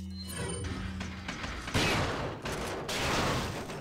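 A shotgun fires in Resident Evil 4, loud gunshot bursts with crashing impacts and a dense, chaotic layer of game noise and effects.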